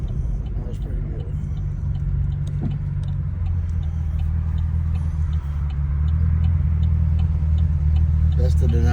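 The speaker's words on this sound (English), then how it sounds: "That's the Denali with the infamous Chevrolet tick beside us." Engine of a GMC Denali fitted with a Chevrolet engine driving alongside, a low continuous rumble with faint repeated ticking on top, while someone talks over it.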